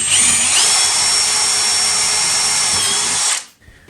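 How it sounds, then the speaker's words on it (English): Close, loud power drill driving a bolt through a 3D-printed tunnel rail adapter, one steady whirring run of about three seconds that stops abruptly. "Just drill right in there."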